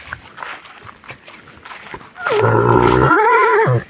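A mare whinnies loudly and close, a long wavering neigh following some shuffling and faint background noise.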